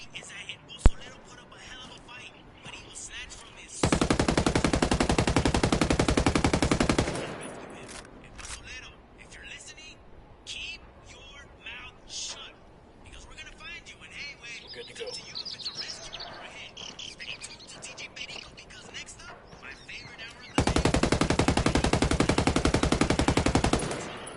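Automatic gunfire in the tactical shooter Ghost Recon Wildlands, two loud sustained machine-gun bursts of about three seconds each separated by a long quieter stretch with ambient birdsong and someone talking.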